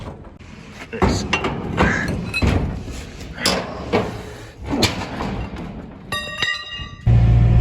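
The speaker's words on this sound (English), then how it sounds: "I'm trying to get this door open. It's kind of jammed down here." A jammed barn door being forced open, with loud close scraping, knocking and rattling thuds in bursts and a brief clink near the end, while a voice speaks.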